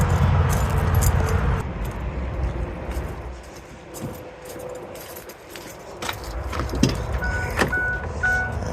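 Keys for a Ford Excursion SUV with a 7.3 liter diesel jangle in short metallic bursts near the vehicle, mixed with soft handling noises and a door or window mechanism.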